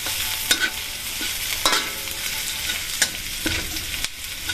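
Bean sprouts and tofu sauté in the leftover oil from frying tokwa, giving a steady broad sizzle with a few clacks of a utensil stirring against the pan, close and fairly loud, no talking.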